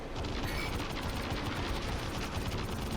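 Ship repeater cannons fire continuously at an Idris warship in the space game Star Citizen, a dense, steady, rapid rattle of shots that stays loud throughout without a pause.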